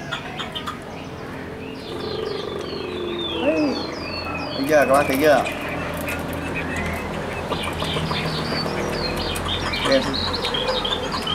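A caged Chinese hwamei, a fan-tailed songbird, chirps and warbles in short bursts, brightest midway through, while someone talks throughout over a faint insect-like hum.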